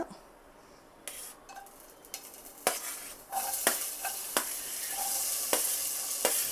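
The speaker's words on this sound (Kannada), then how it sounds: "ಇವಾಗ ಆನಿಯನ್ ಎಲ್ಲ ಫ್ರೈ ಆಯಿತು" Chopped onion frying in oil in a pan, a quiet start then a sizzle that swells louder, punctuated by repeated sharp taps and scrapes of a spatula against the pan, no talking.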